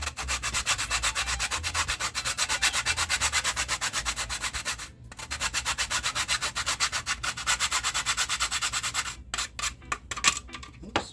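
Fresh whole nutmeg is hand-grated into the dry ingredients for a Jamaican ginger bulla, a steady run of quick, close rasping strokes that pauses briefly midway and turns choppier near the end.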